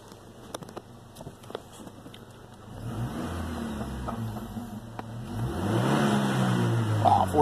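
Chevy truck engine fitted with a custom cold air intake starts at idle, then revs up with a rising, throaty roar that grows louder toward the end, heard close with no talk.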